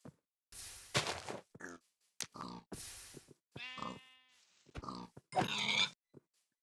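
Pigs grunting and sheep bleating in the Minecraft video game: a series of short, loud, blocky animal grunts and a wavering bleat, close and separated by brief silences, with no speech over them.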